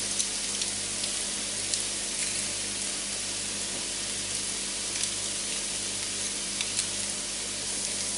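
Onions and garlic sizzle steadily in hot oil in a pan for vegetable stir-fry, a dense continuous crackle with small pops, close and fairly loud, with a low ventilation hum beneath and no talking.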